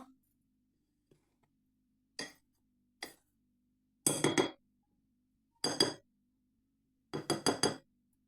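Spoon clinking against a bowl while flour batter is mixed with salt and turmeric, a few isolated taps followed by quick bursts of metallic clinks, close and clear in a quiet kitchen.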